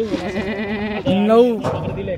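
A milk-producing dairy goat lets out a wavering, drawn-out bleat in the middle of the clip, close by, while people talk over it.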